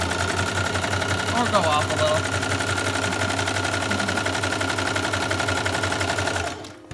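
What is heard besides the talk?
sewing machine stitching a zigzag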